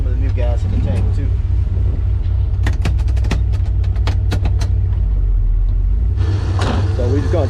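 A Camaro engine idles steadily with a deep continuous rumble close by, a burst of sharp clicks partway through and a brief louder swell near the end, with a voice speaking over it.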